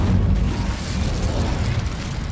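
An Incendio fire spell cast in Hogwarts Legacy gives a loud, rumbling whoosh of flame with low booming bursts and crackling pops, sustained for a couple of seconds with no talk.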